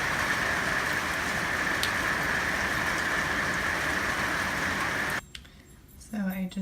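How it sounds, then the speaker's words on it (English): Steady rain falling on a rainy day in Southern California, a continuous close hiss of drops that drops away near the end, followed by a brief voice. "Rainy day in Southern California."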